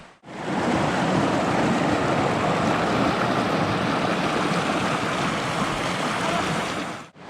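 Steady rushing water of a river flows continuously beside the bank in Dhankuta, Nepal, a broad unbroken wash of stream noise close by, with no voices over it.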